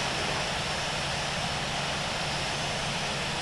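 An airliner taxis to runway 14 left at El Dorado International in the Infinite Flight game, giving a dense, steady engine roar and whine that holds constant throughout, with no talking.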